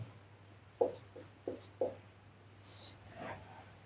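Numbers being written on a board during a maths lecture on squares and square roots, heard as three or four short, soft strokes and taps over a low hum.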